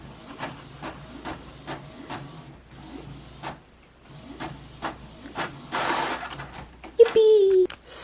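A printer running with intermittent mechanical whirring and clicking passes, heard under a voice talking, ending in a louder rising whine and hiss as the printing finishes.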